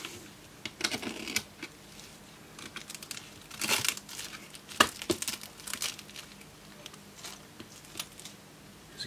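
Plastic cling wrap being cut and peeled away from a mailed electronics package containing an SMC stencil, with close crinkling and tearing rustles in irregular bursts, no talking.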